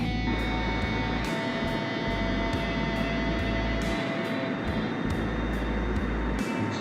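A T-45 jet takes off in a flight simulator game, a steady, loud engine roar with a low rumble and faint periodic clicks throughout, no voices.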